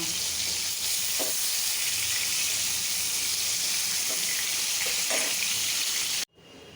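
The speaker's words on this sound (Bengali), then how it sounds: "এটা মাছ ভাজাটা করতেছি" Fish sizzles and crackles in hot oil with a continuous bright hiss and a few soft clinks, ending abruptly.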